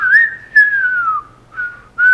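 A single person whistles a film theme melody, one long sliding phrase followed by two shorter held notes, close and clear with brief pauses.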